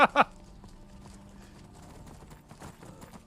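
Horse hooves in the game Skyrim: a couple of sharp clip-clop steps at the very start, then only a low, quiet game ambience for the rest.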